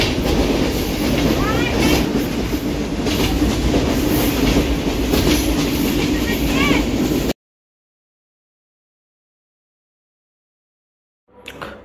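Passenger train rolling on rails, a loud continuous rumble and rhythmic clickety-clack heard from inside the carriage for several seconds before cutting to silence.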